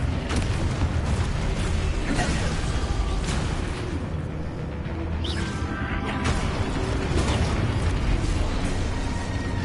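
Confringo explosion spell cast in a Harry Potter-style video game, a loud continuous rumble of booms and bursts with a dense, sustained blast texture throughout.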